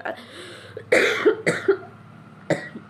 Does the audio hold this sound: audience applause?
no